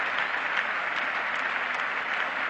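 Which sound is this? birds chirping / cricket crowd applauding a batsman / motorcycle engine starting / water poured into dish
cricket crowd applauding a batsman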